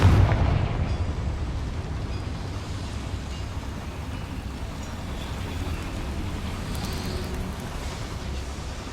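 A Confringo blasting spell in Hogwarts Legacy, a booming fiery explosion that bursts loudly at the start and then leaves a steady rumbling, crackling roar in an underground chamber.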